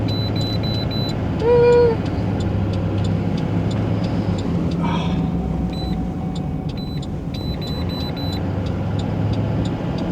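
A backup vehicle's engine idles while warming up on an uphill stretch, giving a steady, close low rumble throughout with a brief tonal whine early on.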